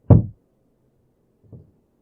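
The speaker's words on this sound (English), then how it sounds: "a loud knocking coming from the other side of the wooden door" A wooden door takes a loud, sharp knock followed by a fainter second knock after a pause, both close and dry against near silence.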